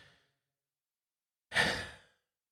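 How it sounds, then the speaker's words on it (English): A single deep, audible breath exhaled as a sigh, close and clear, lasting about half a second after a quiet pause, with a faint trace of breath at the very start. "Nice deep breath."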